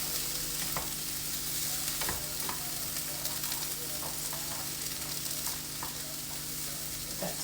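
Tomato paste and oregano being stirred in a hot pan, a steady sizzle with soft scraping strokes of a utensil recurring every second or so, close by and fairly even throughout.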